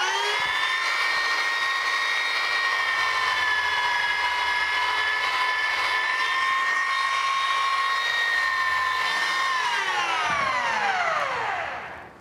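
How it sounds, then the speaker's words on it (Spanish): A steady, high-pitched power tool whine sanding goatskin leather for a traditional wine bota runs continuously, then winds down and fades near the end. "Lijamos aquí bien."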